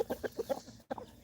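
A rooster on a homestead gives a quick series of low clucks, about five short evenly spaced calls, then a brief pause and another cluck, faint and close by.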